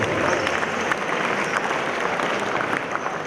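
A school audience claps together in a steady, dense burst of applause at SPR school in Yellapur, sustained and fairly loud throughout with a faint crowd murmur beneath.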